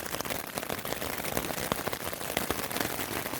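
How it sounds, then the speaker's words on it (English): A heavy rain cloudburst drums on an REI Flash Air 2 ultralight backpacking tent, a dense, continuous patter of close drops with scattered louder taps. "this is the third cloud burst we've had since we got to camp"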